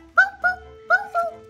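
A voice imitates a puppy barking during toddler role play: four short, high yips in two quick pairs, close and clear against a quiet background.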